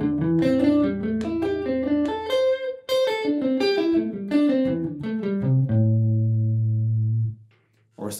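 Electric guitar playing a quick pentatonic run, skipping a string every two notes for wide leaps, rising and falling, ending on a sustained low note.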